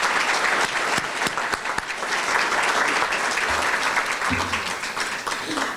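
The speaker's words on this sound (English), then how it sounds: "Let's have a round of applause for those speakers." Audience applause at the 32nd Annual John P. Garrahan Leadership in Diversity Awards ceremony, honoring the speakers. Dense, steady clapping from a large crowd fills the hall throughout, with no break in the sound.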